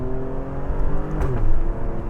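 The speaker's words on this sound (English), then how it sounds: "There's that pops and bangs again." Alfa Romeo Stelvio Quadrifoglio SUV with its exhaust valves open, a steady close engine drone punctuated by a few sharp exhaust pops and bangs near the middle, with no talking.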